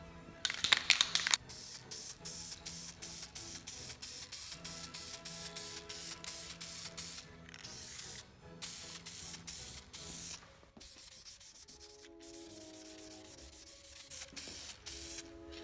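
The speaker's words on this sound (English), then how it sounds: "I've used this Duplicolor vinyl and fabric paint before." Duplicolor vinyl and fabric paint is sprayed from an aerosol can onto a cracked vinyl dashboard of a Toyota Hilux pickup, a soft close hiss in repeated bursts separated by short pauses.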